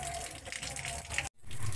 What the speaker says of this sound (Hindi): टैंकी में पानी भरने जा रही हूँ।